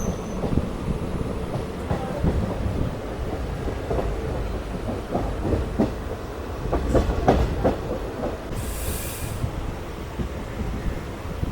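A passenger train bound for Nilambur Road runs on the tracks with a steady rumble and rhythmic clickety-clack of the wheels over rail joints, moderately loud and continuous.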